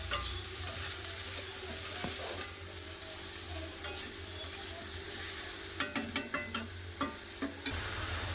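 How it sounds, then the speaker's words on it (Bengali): Chopped bottle gourd and onion are stirred in a hot pan, giving a steady sizzle and a run of sharp ladle scrapes and taps that come closer together toward the end. "কেটে রাখা লাউ পেঁয়াজের সাথে লাউটা ভালো করে কষে নেবো"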